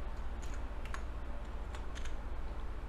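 Typing on a computer keyboard, a handful of crisp, close key clicks scattered over a few seconds against a low steady background hum.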